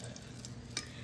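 Eggplant cutlets fry in a pan with a steady soft sizzle and crackle, plus a brief clink or stir partway through, close and without talk.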